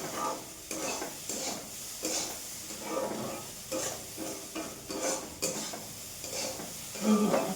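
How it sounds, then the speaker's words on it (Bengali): Vegetables frying in a pan while being stirred, a rhythmic series of scraping stirs over a continuous sizzle, close and fairly loud, with light clinks of utensil on pan. "এই যে এখন এই সবজিটা ভাজা হয়ে গেছে"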